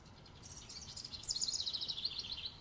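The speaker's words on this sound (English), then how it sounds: "House wrens can call 9 to 11 times per minute during the breeding season." A house wren calls in a rapid, bubbling burst of high chirps that starts soft and grows louder and clearer midway, heard alone outdoors.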